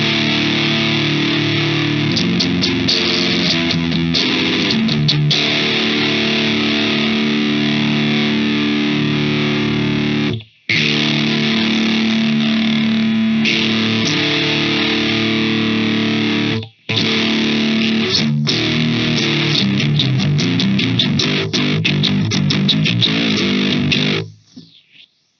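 An electric guitar played through a Belcat phaser pedal sounds with a sustained, loud, swirling tone across chords and notes, broken by two short silences before fading out at the end.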